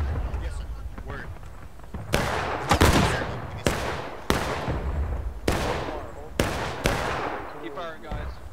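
Volleys of massed musket fire from a line of soldiers in the War of Rights Civil War game, several sharp cracks each ringing into a decaying tail, spaced a second or so apart, with voices talking underneath.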